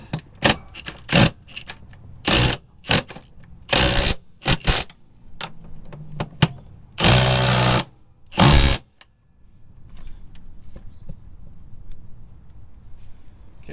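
Bolts are tightened during installation of a 1200hp-rated car transmission, a series of sharp metallic ratchet bursts and clanks of varying length, close and loud, separated by quiet pauses.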